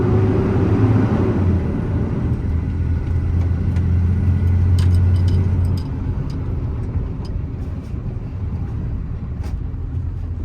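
A 2023 Mack MD6 service truck with a Cummins diesel and crane drives along, its engine giving a steady low rumble with road noise that eases slightly partway through, no talk over it.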